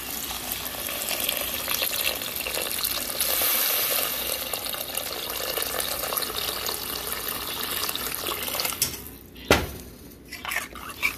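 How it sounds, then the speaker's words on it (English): Water pours steadily into a cooking pot of soup with spices, a continuous splashing rush, followed by a few clinks and splashes as it stops. "and we'll add water."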